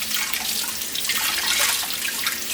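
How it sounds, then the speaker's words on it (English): Cold water runs steadily from a tap into a sink during sponge scrubbing, a continuous bright splashing hiss with no talk over it. "let's get some cold water going."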